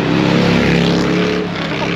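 A Harley-Davidson trike speeds down a street, its loud engine roaring close by in a steady surge that eases slightly toward the end.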